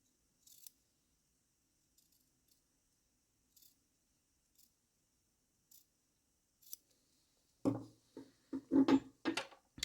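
Scissors snipping through a paper shape, a few faint isolated cuts at first, then a quicker, louder run of close snips at the end.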